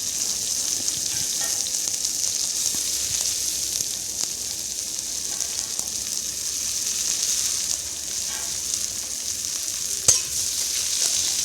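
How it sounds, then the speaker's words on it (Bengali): Onions fry in hot oil with a steady, even sizzle and hiss that holds throughout, with an occasional faint clink. "পেঁয়াজটা ভালো করে ভাজতে হবে"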